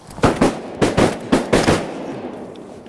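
Rapid shotgun blasts during an Arkansas duck hunt, about six sharp reports in quick succession, loud and close, each with a short booming tail, with no talk over them.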